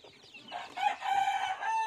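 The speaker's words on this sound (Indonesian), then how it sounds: "Ini ayam saya yang baru datang Masih berumur 2 hari" Two-day-old chicks in a brooder cheep in a busy overlapping chorus, high thin peeping calls repeating close by with no talk.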